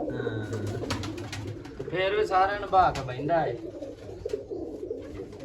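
Pigeons, including an old pigeon, coo in soft warbling bursts near the middle, while someone talks intermittently over and around them.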